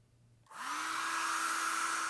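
A hair dryer switches on after a brief quiet moment and blows with a steady, loud whooshing hum.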